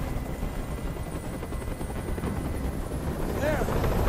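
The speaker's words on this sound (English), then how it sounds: "Tell that helicopter to get out of here." In the video game Detroit: Become Human, a helicopter hovers overhead, its deep continuous rotor chop rumbling loud and steady, with a voice talking briefly over it.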